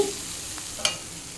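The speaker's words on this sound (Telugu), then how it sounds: "ఓట్స్ వేసిన తర్వాత ఒక రెండు నిమిషాలు వేయించాలి" Oats are stirred and fried in a pan. A soft, steady sizzle carries a single scrape of the spoon near the end.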